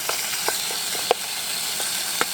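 Beef searing in a pan on a Trangia camping stove, a quiet hissing sizzle with a few sharp pops and crackles over a short stretch, no talking.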